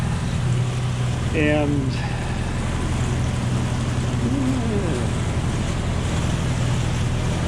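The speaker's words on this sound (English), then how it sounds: "we're motor sailing with the jib up" Sailboat motor sailing under engine with the jib up on the Chesapeake Bay, a steady low motor drone mixed with wind and water wash throughout, with a person speaking over it.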